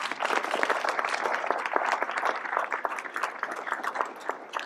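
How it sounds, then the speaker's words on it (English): A crowd claps steadily at an outdoor groundbreaking ceremony in Longmont, a dense, even round of applause lasting the whole few seconds. "a round of applause for these folks as well"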